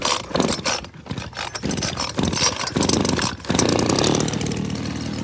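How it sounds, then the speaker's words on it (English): A Husqvarna leaf blower's small two-stroke engine is pulled over with a few ratcheting cranks, then catches and holds a loud, buzzing idle, close to the microphone. "there's the blower"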